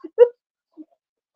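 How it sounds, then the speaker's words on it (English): A dog gives a single short yelp or whimper, close by, followed by two faint brief sounds, with silence in between. "dog."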